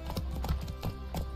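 Roach the horse's hooves clip-clop in The Witcher 3, a few soft, evenly spaced footfalls at walking pace over a low game ambience.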